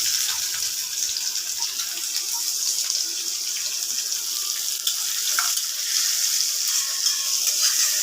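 Onions frying in hot oil in a pan for a koi fish curry, a steady, close sizzle and hiss that runs unbroken throughout, with faint stirring clatter and no talking.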